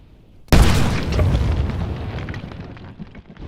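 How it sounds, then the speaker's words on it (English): A gas cylinder ruptures in a boiling liquid expanding vapor explosion, igniting the escaping gas: one sudden loud boom followed by a roaring rumble that slowly fades. "causing a violent explosion, a so-called boiling liquid expanding vapor explosion, or BLEVE."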